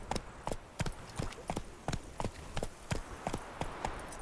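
Horse hooves trot in The Witcher 3: Blood and Wine, a steady clip-clop of clear, evenly spaced hoofbeats close by on a hard surface with no talking.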